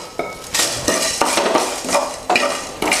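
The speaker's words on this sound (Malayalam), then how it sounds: "നമ്മളിത് എടുത്തു വെച്ച മസാലകളൊന്ന് ചൂടാക്കിയെടുക്കാം" Whole spices such as cinnamon, bay leaf and mace dry-roasting in a pan: repeated metal spatula scrapes and clinks against the pan in uneven strokes, close and fairly loud, with a faint sizzle and no talking.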